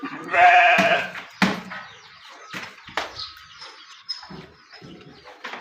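A goat bleats loudly once close by in a goat shed, then scattered softer bleats, thumps and rustling follow at irregular intervals.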